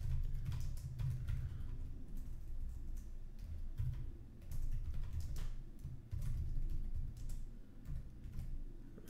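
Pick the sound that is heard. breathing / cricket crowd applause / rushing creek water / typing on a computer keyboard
typing on a computer keyboard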